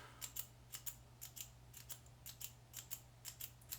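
Crisp, light mechanical clicks from a titanium pen mechanism repeat steadily in pairs, close up over a low steady hum.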